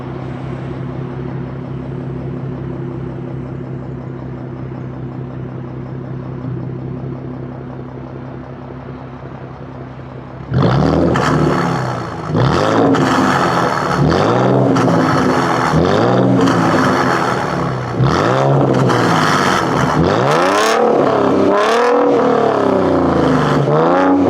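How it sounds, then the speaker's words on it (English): A Ford Mustang with an H-pipe exhaust idles steadily, then is revved hard several times in a row, each loud, close rise and fall of the engine roaring over the rumbling idle. "That was a couple of revs from the car."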